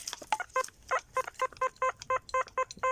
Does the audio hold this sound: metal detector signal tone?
yes